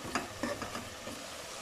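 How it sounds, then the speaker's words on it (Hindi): Masala frying in a cooking pot while a spoon stirs it, giving soft, quiet sizzling and a few scraping stirs in an otherwise calm moment. "अच्छे से आपने मसाला भूनना है"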